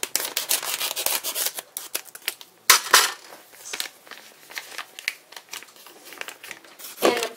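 Scissors snip and crunch through a Hamburger Helper box and packet, with loud crinkling of paper and plastic and sharp bursts between rustles. The sounds are close and there is no talking.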